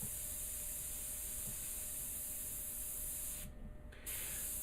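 An airbrush sprays India ink onto a portrait in a steady, close, even hiss that cuts out briefly near the end before resuming.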